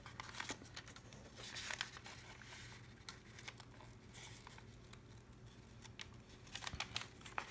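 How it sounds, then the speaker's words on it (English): Scissors trimming paper pages in a Bible journal, with soft crinkling, snipping and paper rustle coming in irregular bursts, close up and quiet, no talk. "using some scissors to trim it up"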